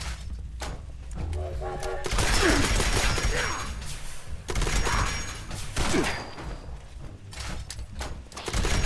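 Grenade blast in the video game Fallout 76, thrown at point-blank range during a fight; loud bursts of explosive noise and gunfire-like crashes with game effects and a voice talking over them.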